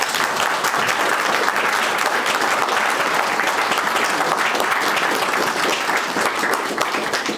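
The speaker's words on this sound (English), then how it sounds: "I think we should first of all give James an enormous round of applause for what he's done." Loud, dense audience applause at a centenary celebration of bus service in Winchester, England, sustained evenly throughout with many hands clapping close by.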